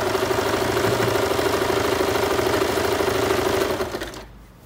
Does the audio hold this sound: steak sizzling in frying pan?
no